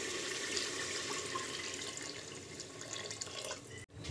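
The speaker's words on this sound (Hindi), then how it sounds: "अब आप इसमें अपने अकॉर्डिंग पानी ऐड कर दीजिए।" Water pours in a steady stream into a pan of fried masala for chicken kofta curry, a continuous close splashing that runs for several seconds before stopping abruptly.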